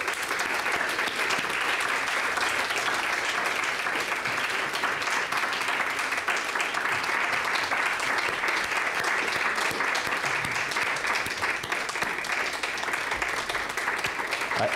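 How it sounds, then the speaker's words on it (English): Steady, dense audience applause at a global health research symposium awards moment fills the room continuously, loud and unbroken from start to finish, with no voices rising above it. "I'm hurrying too much, stepping on the applause."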